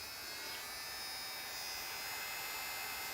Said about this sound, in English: So you've been seeing me using this nail dryer.